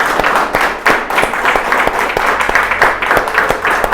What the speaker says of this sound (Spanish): Dale una ofrenda de palmas a Cristo, varón.